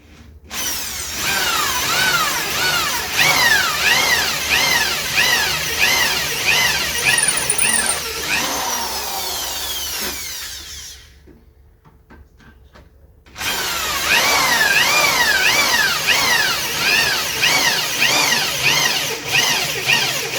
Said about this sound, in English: I've set the depth of my drill so that it doesn't go too deep.